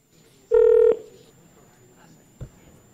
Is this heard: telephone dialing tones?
yes